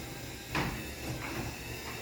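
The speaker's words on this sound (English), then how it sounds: "The door does make a little noise," A residential garage door in a grandparents' garage, run from a smart panel and known for a little noise, moves with a soft, steady mechanical rumble and a couple of muffled clunks.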